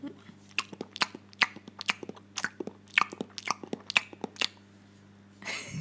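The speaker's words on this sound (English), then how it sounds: "it was just a disgusting chewing sound" Wet, crunchy chewing and biting, a rapid irregular series of close, faint mouth sounds over a low steady hum, ending in a brief burst of noise.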